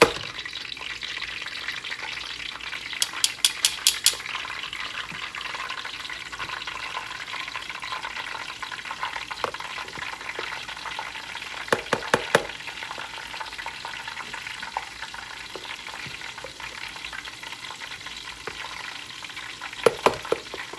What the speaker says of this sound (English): you drop it over in the grease